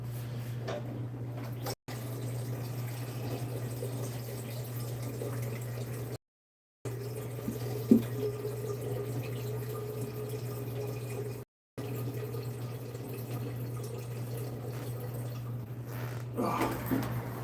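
Water leaking and running from a holed water container turned upside down, a steady trickle with occasional drips and a constant low hum beneath, briefly cut out twice.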